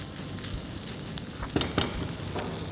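Peri peri paneer stuffing is mixed in a pan with the gas just turned off: a brief steady sizzle with a few quick scraping strokes of the spatula close by.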